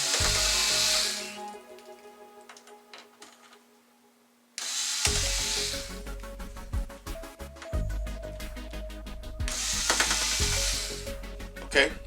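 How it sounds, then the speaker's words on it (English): A power drill set to low torque backs screws out of a Sony XBR-55X850C television during disassembly, with short whirring bursts starting and stopping in a steady rhythm, close and fairly loud. "put your drill on a low torque setting and kind of press firmly down"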